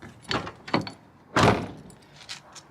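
Several clicks and clunks of a car door handle being worked, then a heavier thud of the door, with a few faint rattles after.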